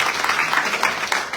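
Congregation clapping in a church service, a dense, steady wash of applause from many hands filling the room from start to finish.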